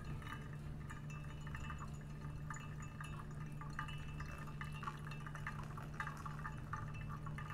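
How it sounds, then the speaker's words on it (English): Slow pour of hot water into a Hario V60 pour-over coffee brewer, a soft, steady trickle of liquid running continuously at close range over a faint low hum, with no one speaking. "Now we add a slow pour of 360 more grams of water"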